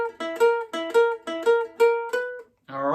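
Ukulele plucking the chorus of a WWE entrance theme, a quick repeated figure of bright notes in a bouncy rhythm, close and clear, ending on a strummed chord after a brief pause.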